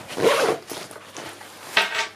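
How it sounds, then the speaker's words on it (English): A zipper on the underside pocket of a Slotra 17-inch laptop backpack is pulled open in a few close, scratchy runs, with a sharp final pull near the end. "there is also a zip underneath there, so you can put like little knickknacks in there"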